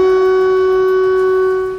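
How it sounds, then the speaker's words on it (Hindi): Air raid siren over Kyiv during a night of Shahed-136 drone attacks, a loud sustained wail holding a steady pitch with strong harmonics, no voices. "वहां रात भर सायरन बजते रहे"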